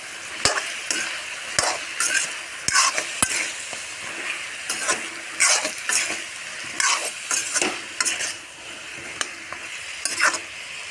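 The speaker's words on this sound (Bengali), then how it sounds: "দিয়ে নাড়াচাড়া করতে থাকবো।" Potato, eggplant and dried fish curry being stirred in a pan, with repeated sharp spatula knocks and scrapes against the metal over a bubbling sizzle, close and fairly loud.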